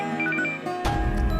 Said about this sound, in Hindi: छोड़ो ना, फोन आ रहा